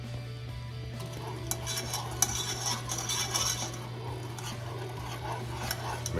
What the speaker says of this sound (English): Stir this for me real quick.